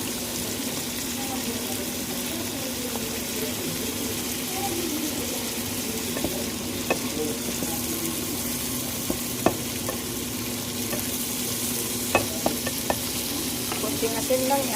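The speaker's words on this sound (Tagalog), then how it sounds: "Ilagay na natin yung ating gulay. Yan. Yan. Stir fry lang guys." Vegetables stir-fried in a pan make a continuous low sizzle with occasional sharp clicks and scrapes of stirring, moderately close, under faint background talk.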